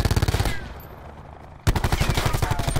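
Rapid automatic gunfire in Call of Duty: Black Ops 4 rattles close and loud in two bursts separated by a brief pause.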